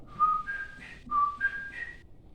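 Two short whistled phrases, each a pair of rising tones, clear and close with a brief pause between them.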